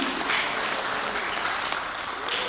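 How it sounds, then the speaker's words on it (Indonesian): A brief, steady burst of audience applause at an inauguration ceremony for a regional organization's board in Jakarta, many hands clapping together evenly, fairly loud, with no talk. "kita kasih tepuk tangan sekali lagi"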